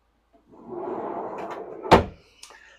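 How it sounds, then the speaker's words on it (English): A big kitchen drawer for pots and pans on an Island Packet 42 motor sailer sliding out with a smooth rumbling roll, then a single sharp knock as it stops, close and alone. "we've got a big drawer here for pots and pans"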